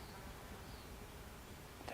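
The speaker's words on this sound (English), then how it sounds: "there's a bee on my hand." A bee buzzing near a person's hand outdoors beside an old 1995 Isuzu Trooper overland camper, a faint steady drone close by under quiet background noise.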